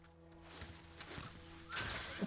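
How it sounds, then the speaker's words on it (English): Horse in the video game Diablo 4: a faint horse whinny and soft hoof sounds at a distance, growing a little louder toward the end amid quiet game background. "Did I just hear a horse?"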